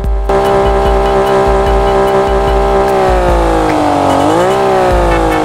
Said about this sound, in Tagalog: Tapos dito naman tayo sa stock engine na tunog